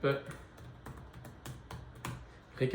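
Light, irregular clicks of a computer keyboard being typed on, a handful of quick taps spaced out across a few seconds, fairly faint and close, while someone speaks softly in French over them.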